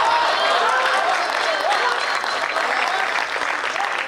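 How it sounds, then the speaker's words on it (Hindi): Sustained, loud applause from a packed hall audience at a Hindi comedy poetry recital in Banaras, a dense steady wash of clapping with crowd noise and some voices mixed in. "कमजोर तालियां एक बार दोनों पूरा सदन बजाए।"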